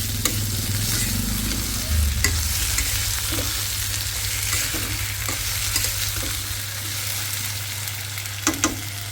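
Tomato and onion fry in a pan while a spoon stirs them, a constant sizzle over a low hum punctuated by periodic scraping strokes, near and without speech.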